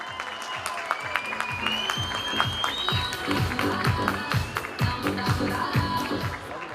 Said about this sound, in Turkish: Evet, kütüye alkışlarla lütfen